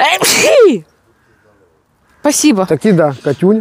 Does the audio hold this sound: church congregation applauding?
no